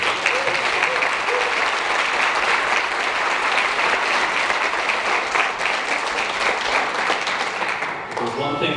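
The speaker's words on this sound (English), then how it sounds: "Give Chris a big round of applause." A concert audience gives a band member a big round of applause, with dense, loud clapping throughout that eases slightly near the end as a voice begins.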